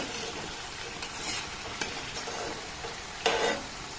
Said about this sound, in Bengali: উল্টে পাল্টে আমি সুন্দর করে ভেজে নেব